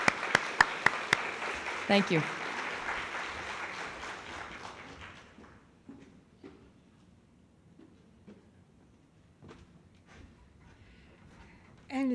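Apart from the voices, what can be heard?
audience applause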